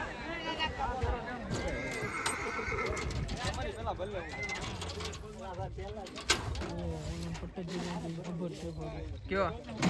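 A horse whinnies repeatedly amid hoof clops at a village wedding procession with many jumping horses, people talking over it and birds cooing faintly in the background.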